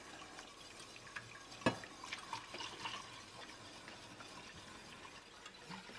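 Milk poured into a bechamel sauce in a pan, a soft steady liquid pouring and sloshing close by with one brief clink near the start, fairly quiet throughout.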